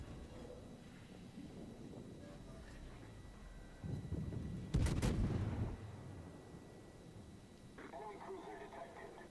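Naval gunfire from the Kraken ship in World of Warships, a single heavy booming salvo rising sharply out of a low ambient rumble, with a voice talking quietly beneath.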